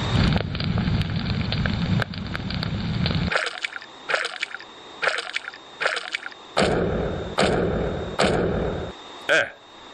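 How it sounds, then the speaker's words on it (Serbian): A crackling fire sound effect played during a radio guessing game: a dense roar with repeated sharp bursts and pops that swell and drop, with voices talking over parts of it. "Prvo je vatra. Da, vatra. Neki požar."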